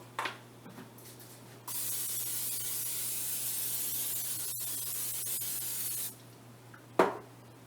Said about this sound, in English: I'm going to spray that with some no stick spray.